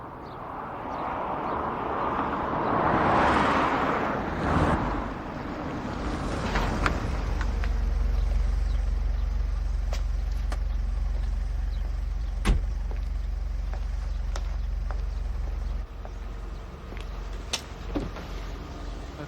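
A car engine idles with a steady low rumble that settles in partway through and continues to the end, after an earlier whirring motor sound and a few light clicks and knocks nearby.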